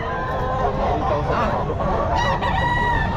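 A bullstag rooster crows at a busy pet market, its drawn-out call rising over a crowded, noisy background with people talking nearby.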